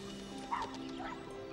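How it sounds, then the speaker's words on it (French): A small dog yaps faintly, a quick high yip or two over a low steady background hum, with no speech. "Est-ce un jappement qui m'est étranger?"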